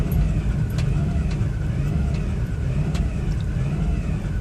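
A 1997 Geo Metro engine idles high and rough, a loud, steady low rumble with slight unevenness heard close up from inside the car.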